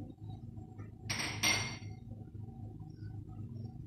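Whole spices are dropped into a hot cooking pot: cinnamon stick, cloves, black peppercorns, a black cardamom and a bay leaf. A brief bright rattle and clink lands over a quiet kitchen background.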